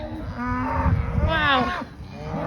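Cattle bellowing in a pen on a calving farm, with loud, close moos that overlap and rise and fall across about two and a half seconds.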